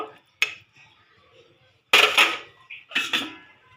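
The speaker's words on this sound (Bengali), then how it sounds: "এবারে আমি ঢাকা দিয়ে দেবো" A metal lid clanks down onto a pot of simmering rui fish curry with ridge gourd and potato. Three clattering knocks of metal on metal sound close by, with short quiet gaps between them.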